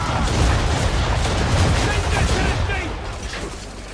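Broadside of ship cannons firing in Assassin's Creed 3, a dense continuous rumble of heavy booms rolling together over about four seconds, loud and close, fading slightly toward the end.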